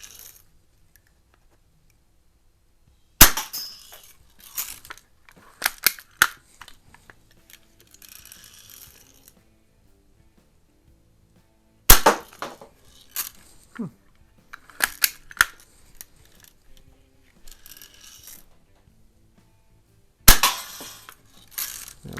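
Antique Heilprin Columbian Model E BB repeater air gun from 1914-20 firing at cans outdoors, sharp isolated snapping shots spaced several seconds apart, each followed by brief clicks and rattles of the mechanism amid near silence.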